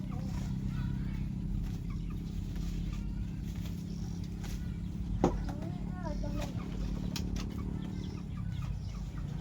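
Chickens cluck and murmur close by in a rustic yard, with a brief wing flap, while people talk over the low background noise.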